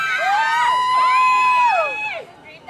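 Fans at a live concert in a shopping mall shriek and cheer with high, overlapping squeals that rise, hold and fall over a couple of seconds, loud and close.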